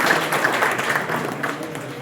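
An audience at a university farming training event in Haryana claps together to honour the vice-chancellor, producing a dense, steady patter of hands that carries on evenly for a couple of seconds with no one talking over it.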